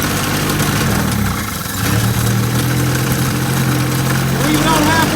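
An old Toyota Wolverine engine runs steadily at idle with the choke set halfway, a loud continuous low drone that dips briefly before picking back up, with people talking over it.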